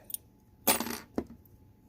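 A couple of small metal keys clink together: a faint tick, then a bright jangle and a second short clink, in an otherwise quiet room.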